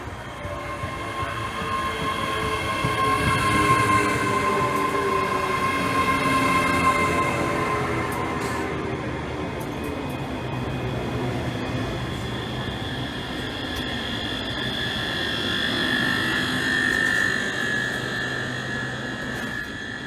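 A train rumbles steadily through Linlithgow station, bound for Polmont, with a sustained low roar, faint squealing tones and a brief bump midway, no voices heard.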